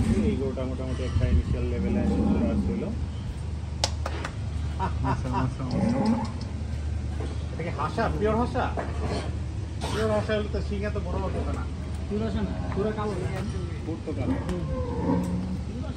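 A cow moos at a dairy cattle farm in Munshiganj, low drawn-out calls partly buried under nearby conversation and steady outdoor background noise.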